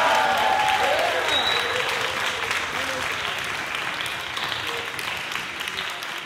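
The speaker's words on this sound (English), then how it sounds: "Let's give another big round of applause to Nathan." Applause from a school spring concert audience, loud sustained clapping that slowly fades over several seconds, with a few faint voices mixed in.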